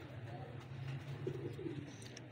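A pet pigeon gives a few soft, low coos close by against a quiet background. The calls are faint and short.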